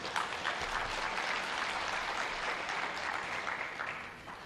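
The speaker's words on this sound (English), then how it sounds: "Ladies and gentlemen, a round of applause for our sponsors" An audience at a Uganda-China trade and investment forum applauds its sponsors, a steady wash of clapping from a large room that holds evenly before fading slightly at the end.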